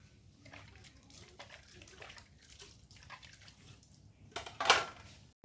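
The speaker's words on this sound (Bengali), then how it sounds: "রাতের কিছু বাসি বাসন ছিল, সেগুলোও এখন মেজে নিয়েছি। চলো ঝটপট করে সুন্দর করে ধুয়ে নেই।" Leftover dishes from the night before are rinsed under running water, with soft splashing and occasional clinks of pots and utensils, ending in a louder burst of water.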